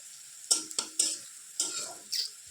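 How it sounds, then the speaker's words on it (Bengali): Onion and chili frying in a pan at home, heard as a few short bursts of sizzling and spatula scraping separated by near-silent gaps, fairly quiet and close. "একটু ভাজা করে নিলাম পেঁয়াজ লঙ্কাটা"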